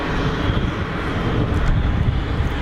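An easyJet airliner's jet engines at Geneva Airport make a loud, close, continuous rumbling roar with a brief windy hiss, heard alone for a couple of seconds.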